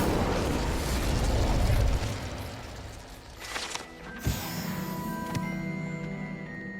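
An Incendio fire spell cast in the video game Hogwarts Legacy, a loud burst of roaring flame that fades after about two seconds, followed by quieter game sound effects and tonal chimes.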